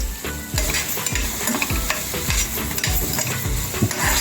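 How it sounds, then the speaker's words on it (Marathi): Onions stir-fried in oil in a kadai, a loud continuous sizzle punctuated by rhythmic scraping and stirring strokes of a spatula, close and without any talking. "मी कांदा चांगला परतून घेते"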